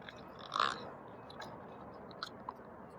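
Someone munching a soft red bean bun, steady close chewing with a louder bite near the start and a few small crunchy clicks afterward, no talking.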